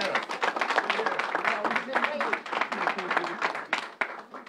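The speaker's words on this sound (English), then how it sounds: "I personally want to appreciatively applaud the governor for coming here today" Crowd applause for the New York governor at a public COVID-19 vaccination event, dense sustained clapping from many hands with a murmur of voices mixed in, loud and close.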